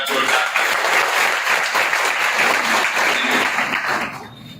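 A group applauds loudly and continuously for students' parents at a coaching-class gathering, and the clapping tapers off at the very end.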